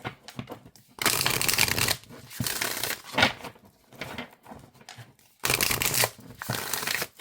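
Bursts of crisp papery riffling from oracle cards being shuffled overhand, several rapid runs separated by brief pauses, close up with no voices.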